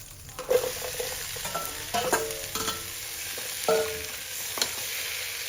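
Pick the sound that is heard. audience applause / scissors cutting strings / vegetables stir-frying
vegetables stir-frying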